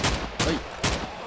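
Three rapid bursts of Minecraft gunfire crack in quick succession, loud and close, evenly spaced.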